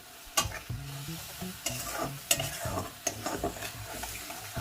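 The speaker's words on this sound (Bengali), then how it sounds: "এবার টমেটোর সঙ্গে মশলাটা খুব ভালো করে আমি নাড়াচাড়া করে মিশিয়ে নেব যতক্ষণ পর্যন্ত না তেল ছেড়ে আসে।" Tomato and spice masala is stirred in frying oil, with a spoon scraping and knocking against the pan in an uneven rhythm over a soft sizzle, heard up close.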